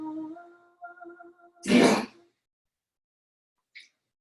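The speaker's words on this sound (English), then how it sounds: "my doggy has congestive heart failure, and so he's coughing up lung butter" A dog with congestive heart failure gives a single harsh, raspy cough after a soft tonal hum, followed by silence and a tiny faint click.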